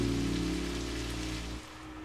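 Rain falling outside in the video game Necrobarista, a steady soft hiss beneath sustained musical tones that cut off near the end.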